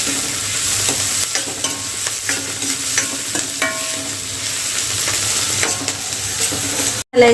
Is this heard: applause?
no